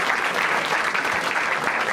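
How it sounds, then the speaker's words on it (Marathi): An audience applauding at a Marathi stand-up comedy crowd-work show, dense sustained clapping from a room full of people for the whole two seconds, loud and even. "एकदा या दोघांसाठी टाळ्या वाजवा."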